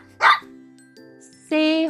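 A single short, loud dog bark rings out near the start, followed later by a sustained bright tone after a quiet pause.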